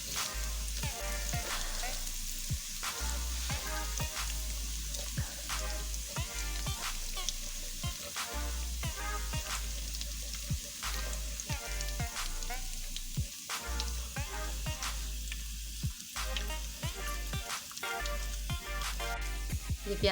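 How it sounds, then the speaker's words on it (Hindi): Garlic fries in oil in a pan for chana dal, a continuous close sizzle with a steady crackle running unbroken throughout, with no voices. "लहसुन को लाइट गोल्डन होने तक फ्राई करेंगे।"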